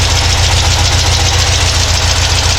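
A car engine fitted with Dellorto DRLA carburetors idles steadily and loudly close by, with an even pulsing throb and a slight uneven knock.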